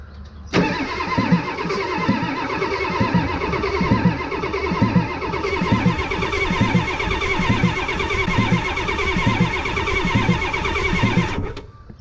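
A 1989 Ford F250 with a 7.3 IDI diesel engine cranks steadily for about eleven seconds, the starter churning in a loud, even rhythmic beat close by without catching, then cutting off.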